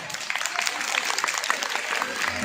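Crowd applause at a Hindi stage performance about Lord Ram's exile preparations, moderately loud clapping with an announcer's voice woven through it.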